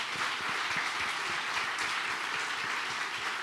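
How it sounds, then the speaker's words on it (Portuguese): A church congregation applauds at a worship service, a dense, even wash of many hands clapping at a distance, sustained steadily throughout without talk. "eu quero que a gente agora possa dar também, mais uma vez, um aplauso a Jesus"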